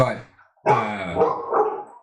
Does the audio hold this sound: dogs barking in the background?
yes